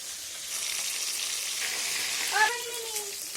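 Pieces of silver carp fish frying in hot oil, a steady close sizzle throughout, with a short whistling tone rising briefly near the end.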